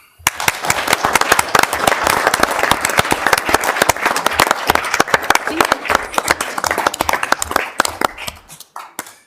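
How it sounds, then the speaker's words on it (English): Applause from the audience at a city council meeting, many hands clapping loudly and steadily for several seconds before fading out at the end. "if you all would give them a round of applause"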